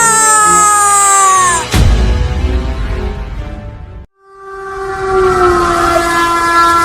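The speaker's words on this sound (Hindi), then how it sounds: "आगे से ट्रेन आ रही है" A train runs on the tracks beside a level crossing, a loud horn blaring long and steady, broken by a sudden heavy rumble and a brief drop before the horn sounds again, with no talk over it.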